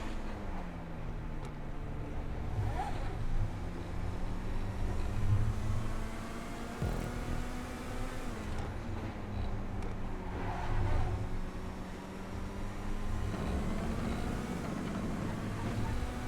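The Neo sports car in GTA 5 roars continuously as it is driven hard around a lap, with the engine pitch climbing and dropping through gear shifts, loud and close with no talk.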